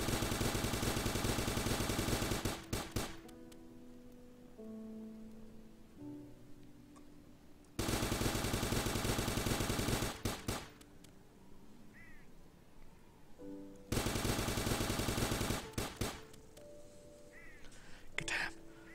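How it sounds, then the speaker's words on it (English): Bursts of fireworks exploding in the Starbound video game, three dense crackling volleys separated by quieter stretches with scattered pops and game tones. "Fireworks are awesome, yeah."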